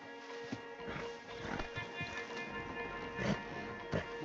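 Stolen horses stirring in Red Dead Redemption 2, with scattered hoof thuds and clops at a walking pace, close by, amid game ambience.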